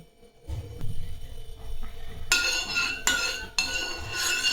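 Powdered sugar being stirred into warm milk and ghee in a pan for Diwali shankarpali, with soft stirring followed by louder metallic scraping and clinks of a spoon against the vessel.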